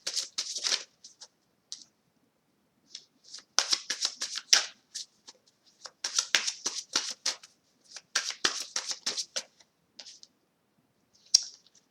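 An Oracle card deck is shuffled by hand in quick, crisp riffles and flicks, coming in short irregular bursts separated by brief silences, close and clear.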